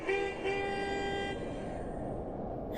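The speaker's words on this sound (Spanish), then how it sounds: "escuché un claxon sonando desesperadamente detrás de mí." A car horn sounds one long, blaring honk at moderate distance over steady road noise, then fades out.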